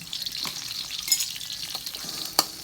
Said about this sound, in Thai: จากนั้นยายก็จะผัดเครื่องแกง ผัดเครื่องแกงนี่ก็ให้หอมนะ